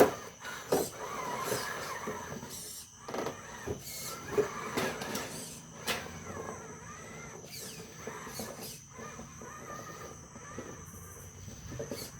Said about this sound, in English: You hear them tires creeping on them rocks.